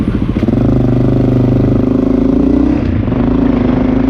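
Honda XR650L motorcycle single-cylinder engine with a Lexx exhaust, running loud and close with a steady throbbing pulse and a slight shift in pitch partway through.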